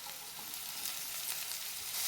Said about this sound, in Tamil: அதுக்கப்புறம் நம்ம பூண்டு கொள்ளை சேர்த்துக்கலாம் நல்லா கலந்து விட்டு